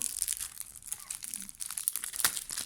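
A new pack of football trading cards being torn open by hand, close crinkling and ripping of foil wrapper in a quiet room, with no talking.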